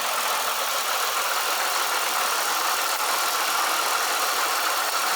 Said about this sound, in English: Supercharger coupler noise generally will go away after idle.